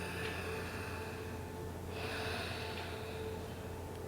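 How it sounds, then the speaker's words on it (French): Slow, deep breaths in a calm relaxation session, faint and close, with a soft inhale building midway and a gentle exhale, alone with no talking. "On va respirer ensemble."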